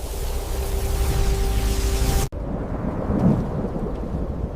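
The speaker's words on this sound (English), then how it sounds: "Summoning massive spheres of crackling lightning, he lit up the dark sky" Thunder and lightning sound effect: a loud, dense crackling rumble that cuts off abruptly partway through, then a quieter rolling rumble with faint rain-like hiss continues.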